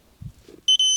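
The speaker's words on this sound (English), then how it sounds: "Do you hear the bleep?" Electronic beep from a device in a day van, a short tone cut briefly then resumed, preceded by a couple of soft low thumps.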